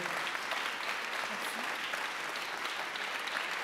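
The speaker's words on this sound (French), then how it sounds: "Je crois qu'on peut l'applaudir pour cette initiative." An audience at a corporate equality-trophy ceremony applauds an award winner, producing dense, sustained clapping that stays even and fairly soft throughout, with no voices above it.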